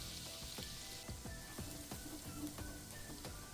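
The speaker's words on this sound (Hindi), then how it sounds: "और थोड़ा सा सौटे करेंगे लहसुन को।" Chopped garlic sautés in oil in a pan for an Afghan eggplant dish, a soft, steady sizzle with a faint, even crackle, quiet and alone.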